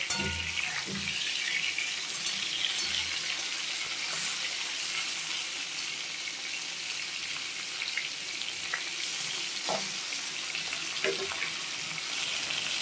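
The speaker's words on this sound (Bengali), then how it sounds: "এখন আমি নুন হলুদ মাখানো মাছগুলো ভেজে নিচ্ছি রুই মাছ" Rohu fish, rubbed with salt and turmeric, sizzles steadily in hot oil, a constant crackling hiss with occasional pops and a few clinks of a utensil, no talking.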